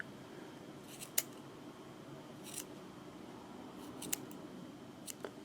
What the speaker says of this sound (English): So let's just snip a little bit off there.